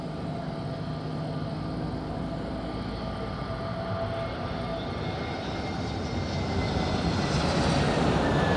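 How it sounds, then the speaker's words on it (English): EasyJet and Ryanair airliners approach Madeira Island airport in strong wind, their jet engines roaring steadily and growing louder toward the end, with no talk over it. "We have EasyJet approaching Port Saint number 1 and Impra Ryanair number 2."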